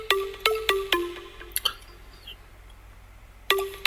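Short synth plucks from a square-wave Nexus preset, processed with a low-cut EQ in an EDM festival track, sound as a few bright, quick, evenly spaced notes, then a pause and another pluck.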